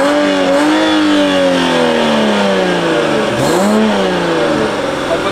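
Dodge Challenger engine revs hard and close, a loud throaty growl rising and falling through several pulls, dipping and climbing again near the end.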